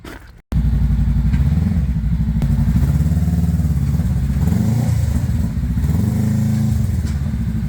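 Harley motorcycle engines rumble loudly and close by, a deep steady throbbing that kicks in after a brief quiet gap and runs on continuously with slight swells, without speech.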